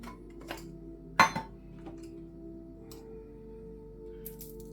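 A glass jar of black pepper is set down on a kitchen counter, giving one sharp clink followed by a smaller knock and faint scattered taps in a quiet room.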